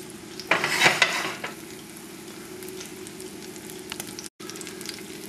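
A breaded turkey cutlet frying in a pan gives a steady close sizzle, with a louder burst of crackling near the start as it is moved, then an even hiss that continues with light pan clinks.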